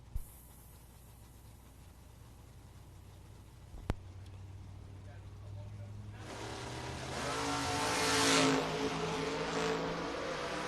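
The 73 and 91 Camaro race cars run side by side at a racing event, their engines starting faint and distant, then building into a loud, sustained roar as they approach.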